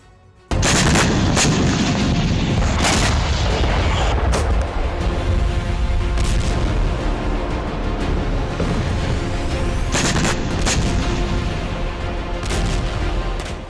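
Artillery bombardment in the Ukraine war sounds as a dense, continuous barrage of heavy booms and blasts that erupts suddenly and stays loud, with several sharper explosive bursts standing out across the roar.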